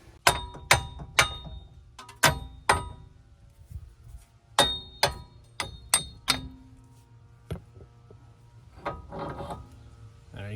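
Hammer blows knock a wheel bearing assembly off a Hyundai or Kia hub, sharp metallic clangs ringing out in uneven bursts of two to four strikes, loud and close, with quieter scraping and clunking of parts between them.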